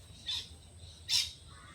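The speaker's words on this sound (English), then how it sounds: "I do apologise for all the bird noises, because it is hard when you live in a bird sanctuary" Two short, bright bird calls ring out in a bird sanctuary, the second louder and closer than the first, over a quiet low background hum with no talking.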